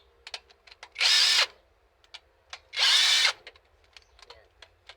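A pneumatic impact wrench loosens bolts on a Toyota Innova VVT-i gasoline engine's throttle body, firing two loud, sustained rattling bursts of about half a second each, with lighter tool clicks and taps around them.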